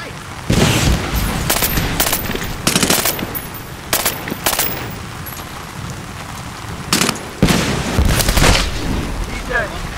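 Gunfire in the first-person shooter Medal of Honor Warfighter comes in loud, close bursts of rapid automatic shots with heavy booming impacts, broken by short lulls, while a voice speaks over the action.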